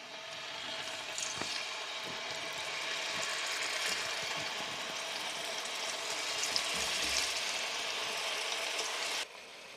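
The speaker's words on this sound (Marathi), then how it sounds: "तेल गरम झालंय, तेलावरती आपण हे ड्रमस्टिक ठेवूयात." Chicken drumsticks sizzle steadily in hot oil previously used to fry onions, a dense continuous crackle with scattered pops and a few clicks, close and constant until it drops away near the end.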